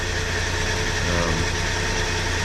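A 1981 Ford 4.9L inline-six with a two-barrel carburetor conversion idles steadily after a cold start, a loud, continuous low rumble with a faint mechanical knock and no voices.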